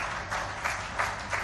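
Crowd applause at a public event following an announcement about a Chitrakoot development authority, a steady wash of many hands clapping, moderately loud and continuous, with faint crowd murmur.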